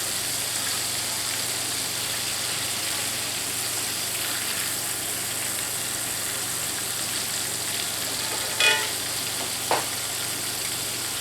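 Country fried steak sizzles in a skillet with a steady, even broadband hiss and no talking, broken near the end by two brief scraping clicks as the crusted meat shifts.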